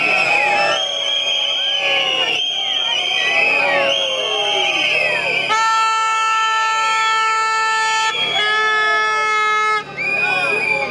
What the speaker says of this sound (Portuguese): Nós falamos e vocês assobiam os membros do governo.